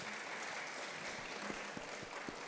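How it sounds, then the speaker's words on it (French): Audience applause at a literature festival panel on the legacy of slavery, a steady, fairly faint wash of clapping from a seated crowd with no talk over it. "On peut l'applaudir, oui."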